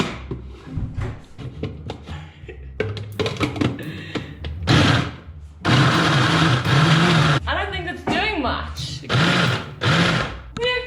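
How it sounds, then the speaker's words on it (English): Food processor blending about seven dates for sweet potato brownies, a loud churning motor roar running in several bursts with short pauses between, harsh and close throughout. "I'm gonna add about 7 dates into a food processor"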